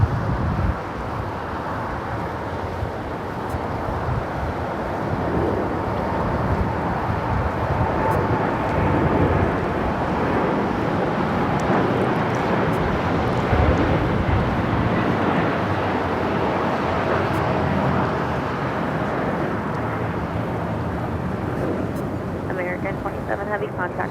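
An American Airlines Boeing 787 Dreamliner taking off from LAX bound for Tokyo Haneda, a sustained broad jet-engine roar heard from a distance with wind buffeting, steady throughout.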